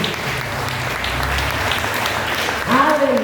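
A church congregation applauds during a Portuguese-language worship service, a steady wash of clapping with a low organ or keyboard tone beneath, before a voice and rising musical notes enter near the end.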